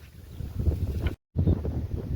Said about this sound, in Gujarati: પવન તો જુઓ કેટલો પવન છે.